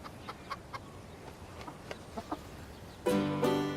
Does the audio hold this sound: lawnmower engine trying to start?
no